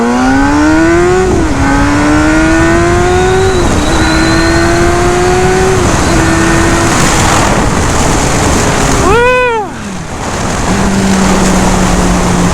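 A 2007 Honda CBR600RR sport bike accelerates hard from first gear, its engine climbing in pitch through several quick upshifts. A loud, close pass-by with a sharp pitch drop follows, then the bike settles at a lower steady drone.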